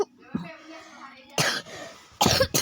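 A sick child coughs several times, sharp harsh bursts close to the microphone, separated by short pauses with quiet murmured speech in between.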